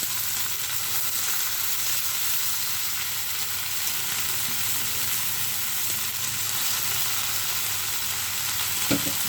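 Leafy greens frying in a pan with onion, garlic and green chilli, a steady close sizzle with stirring throughout and a brief clink near the end.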